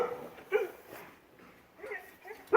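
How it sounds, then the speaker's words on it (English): Dog by a garden fence giving a few short yips and whimpering barks, close and moderately loud, with a sharper bark at the end amid quiet surroundings. "The dog got in there because they're teasing them by the fence."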